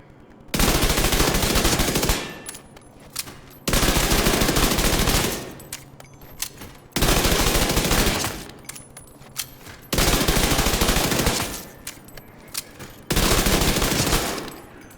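MP5 submachine gun fire in The Division 2, five long sustained bursts of rapid automatic shots separated by short pauses, loud and close with no talking.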